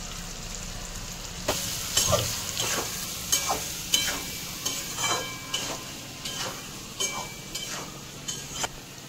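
Soybean chunks fry in a pan with turmeric under a low, steady sizzle, broken by a regular series of sharp stirring scrapes and spoon taps roughly every half second.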